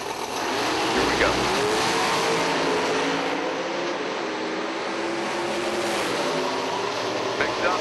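A pickup truck launches in an IHRA drag race, a loud sustained engine roar mixed with crowd noise and an excited announcer talking over it.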